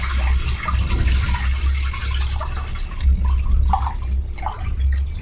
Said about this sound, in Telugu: ఇక్కడ మనం నాలుగు గ్లాసులు బియ్యానికి తొమ్మిది గ్లాసులు వాటర్ వేస్తున్నాను